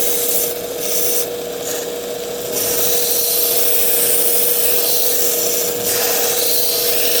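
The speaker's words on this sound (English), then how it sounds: "Cutting in a clean bevel on the back, flip it over, cut in a clean bevel on the front" Steady abrasive rubbing as a pocket knife blade is ground to a clean bevel during a repair of a broken tip, with continuous close-up scraping and a few brighter bursts, no talking.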